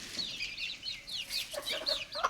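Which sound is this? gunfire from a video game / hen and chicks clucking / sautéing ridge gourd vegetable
hen and chicks clucking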